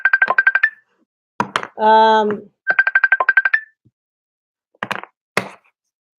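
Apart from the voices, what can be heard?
phone ringtone for an incoming call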